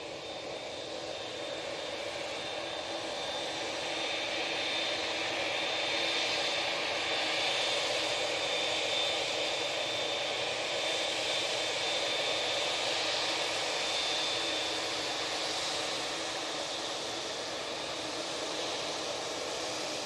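Jet2 airliner bound for Tenerife pushing back at Manchester Airport, a steady broadband roar of jet engines with a thin high whine running through, continuous and moderately distant.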